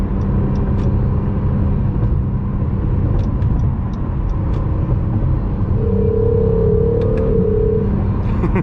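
A 2020 Acura NSX's 3.5 liter twin-turbo 75-degree V6 drones steadily and loudly from inside the cabin, with a brief rising tone near the end as it shifts.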